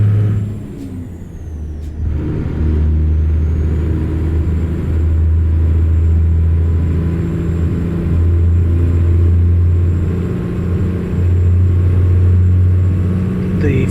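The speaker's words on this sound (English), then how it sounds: "The 500 horsepower Caterpillar engine is really nice." A Kenworth W900A truck with a 500 hp Caterpillar engine in American Truck Simulator drones in a steady, loud low rumble that swells and eases slightly with throttle, with a brief hiss near the start and no talk.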